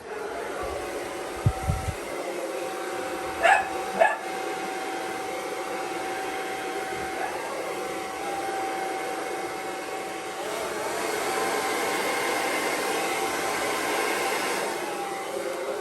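A hair dryer blows steadily over wet acrylic paint in a Dutch pour, a continuous close whooshing hum that swells slightly louder toward the end, with a few faint knocks early on.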